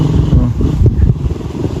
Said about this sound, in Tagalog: Yung motor nga po yung nahihirapan eh.